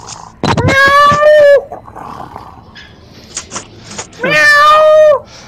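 A person's voice imitates a cat meowing, giving two drawn-out, loud meows about three seconds apart, with softer mouth noises and brief sounds in between.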